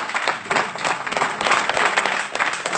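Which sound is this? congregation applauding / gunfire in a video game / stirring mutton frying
congregation applauding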